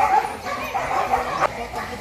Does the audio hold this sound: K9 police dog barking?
yes